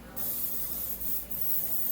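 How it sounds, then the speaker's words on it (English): Cooking spray hisses into a bowl in a couple of short, close bursts for a keto mug cake, quiet and alone. "So we're going to spray our other bowl."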